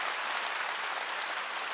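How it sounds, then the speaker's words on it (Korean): A congregation at a church revival meeting claps together, a dense, uniform burst of applause sustained throughout without any speech. "박수 치라고"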